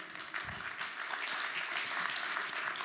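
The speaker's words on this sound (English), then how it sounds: "give a nice, warm morning round of applause" A keynote audience breaks into sustained applause to welcome security speaker Mikko Hypponen on stage, steady dense clapping filling the room at moderate loudness without talk.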